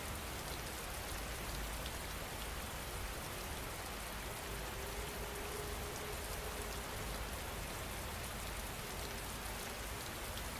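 Steady, even rainfall fills the whole stretch, a dense hiss of drops on a surface with no voices and no pause.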